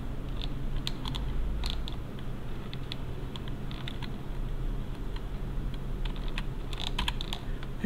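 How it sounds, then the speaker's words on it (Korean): Keys on a computer keyboard, Shift and the right arrow, are tapped in scattered light clicks at close range over a low steady background hum, with no talking. "쉬프트 누르고 방향키 오른쪽 거 누르시면"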